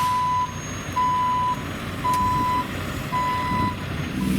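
A tow truck reverses at a roadside recovery scene, its loud back-up beeper sounding four long, evenly spaced tones over a low, steady engine rumble.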